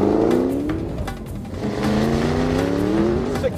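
A 2010 Noble M600 supercar accelerates hard with wheelspin, its engine note climbing steadily in pitch as it pulls through the revs, loud and close throughout with no talking.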